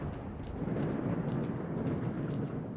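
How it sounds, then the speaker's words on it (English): A storm in the video game Stalker: Shadow of Chernobyl gives a continuous deep rumble of thunder under a dense wash of rain-like noise. It holds steady and full for the whole stretch, with no voices. "That's a good storm sound effect right there."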